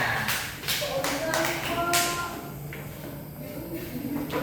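Children clapping in a classroom during an English lesson, a short patter of claps under nearby talk and tapping noises.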